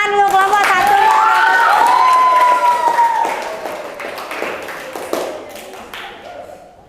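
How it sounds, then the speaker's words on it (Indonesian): A classroom of students applauds the first group in a grade seven math lesson, steady clapping under loud voices that thins into scattered taps and fades out. "Oke, kita beri tepuk tangan dulu kelompok"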